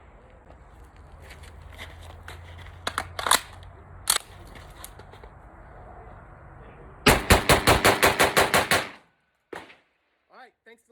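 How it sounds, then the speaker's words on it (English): Rapid string of 12 gauge shotgun blasts from a bullpup fitted with a muzzle brake, about ten sharp loud shots in quick succession after some scattered handling clatter, ending in a few faint clicks. "I'm going to send you guys home with a mag dump."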